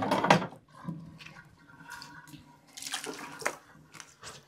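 Dirty water from washing an antique woolen Persian rug being changed in a bathtub: splashing, sloshing and dripping bursts with a few clunks, close by and moderately quiet, with brief lulls between the pours.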